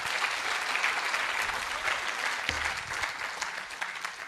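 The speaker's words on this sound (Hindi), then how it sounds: "जोरदार तालियां दोस्तों इनके लिए" Loud, dense applause from a crowd at an Amway business meeting, sustained and even across the whole stretch.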